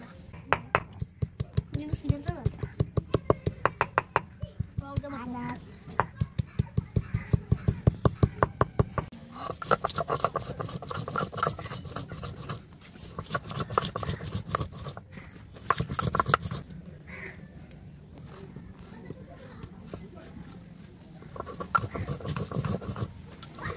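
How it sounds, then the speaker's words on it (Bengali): Dried chilli and ginger are ground on a grinding stone, giving rhythmic scraping and knocking strokes, steady at first and then more uneven, with a voice talking quietly at times. "এবার আমি শুকনো লঙ্কা আর আদাটা বেটে নেব"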